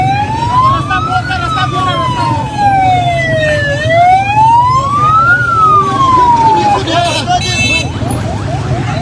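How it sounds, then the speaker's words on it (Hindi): An ambulance siren passes during a street protest in Muzaffarabad, its wailing tone rising and falling in long sweeps, loud over a constant crowd murmur and voices, with a brief horn toot near the end. "एक और एम्बुलेंस जा रही है।"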